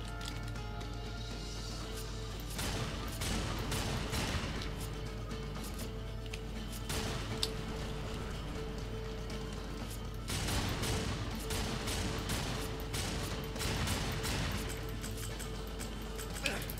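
Gunfire in the Darksiders 2 video game: bursts of shots and crashing impacts come in clusters over a constant low game rumble, loud and busy throughout.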